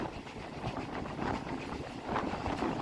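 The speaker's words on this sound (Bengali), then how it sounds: "আমাদের ট্রেন দাঁড়াবে না স্কিপ করবে স্টেশনের নাম মাতলা হল্ট" A Sealdah–Canning local train runs steadily through a station without stopping, heard from on board as a continuous loud rumble and rattle of the carriages with no voices.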